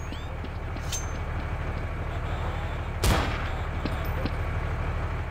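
Gunfire in the Counter-Strike: Source multiplayer game: a single loud, sharp shot bursts out over a steady hum of game ambience, with a fainter earlier crack.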